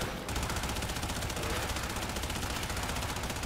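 Rapid, continuous automatic gunfire from the sci-fi shooter Warframe, loud and unbroken, with dense fast rattling reports filling the whole stretch.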